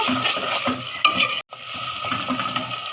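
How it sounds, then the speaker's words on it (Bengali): Chicken pieces going into spices frying in a pot for biryani, a close sizzle with stirring and scraping that pauses briefly, then resumes. "এখন আমি মাংসগুলি দিয়ে দিই"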